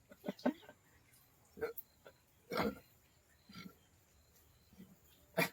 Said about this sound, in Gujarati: મિત્રો આ સોડા બહુ આકરી, નાકમાં ઓડકાર આવે